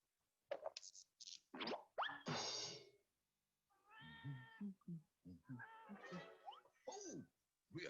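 A cartoon cat gives a run of bright, stretched meows and squeals with short gaps between them, up close and fairly loud, mixed with comic boing-like cartoon effects.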